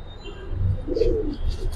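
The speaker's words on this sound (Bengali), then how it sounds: "এই দেখেন কবুতর কেমন ভাই" Soft, low pigeon coos rise and fall in a short murmuring phrase, close by, with faint rustling in the background.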